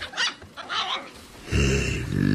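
A small white puppy with brown patches in a Polish radio drama of Of Mice and Men growls and whimpers close up, a short burst of throaty dog noises after a few quiet breathy sounds.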